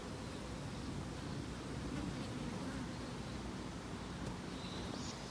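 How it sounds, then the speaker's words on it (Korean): Dung flies swarm around a baby goat on a 35°C summer trip to Miryang, giving a continuous, faint, close buzzing drone with no talk. "염소한테 똥파리가 계속 꼬여요."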